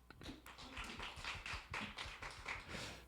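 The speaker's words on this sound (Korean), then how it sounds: "여러분 큰 박수 부탁드립니다" An audience at an environmental health concert lecture in Korea applauds a speaker, giving a dense, even patter of many hands clapping at moderate distance, with a faint low hum underneath.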